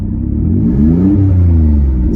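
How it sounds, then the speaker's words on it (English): A 2003 Mitsubishi Eclipse GTS engine revs in neutral up close and loud, its deep rumble climbing in pitch and holding high, with no one speaking. "We're gonna throw it in neutral. We're gonna rev it a bit."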